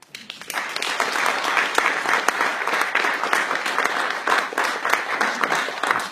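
Audience applause for a panel of speakers, a steady dense clapping from a crowd that rises quickly and holds at an even level for several seconds.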